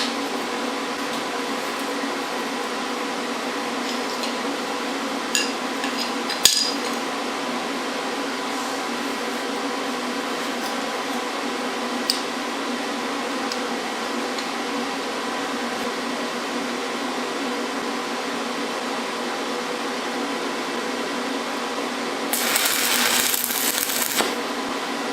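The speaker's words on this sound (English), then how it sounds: "instead of trying to get this inside corner, I'm going to weld it out back here" A close, loud, continuous crackle and buzz of stick welding with a welding rod lasts throughout at a steady level, joined near the end by a brief hiss, with no talk.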